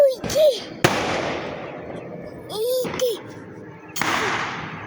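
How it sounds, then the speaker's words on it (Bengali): Firecrackers bursting at a wedding, sharp loud cracks followed by crackling fizz, several separate bursts over a few seconds, mixed with whistling rising tones and children's voices nearby. "এখানে বাজি ফাটছে"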